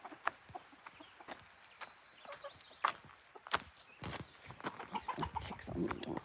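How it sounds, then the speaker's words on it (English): A chicken clucks outdoors in short scattered bursts, fairly faint, with rustling and scuffling noises mixed in and no talking. "Well, hello, chicken."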